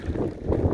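Gusty wind buffets the microphone in low, rumbling surges, rising and falling over a short moment with no voices.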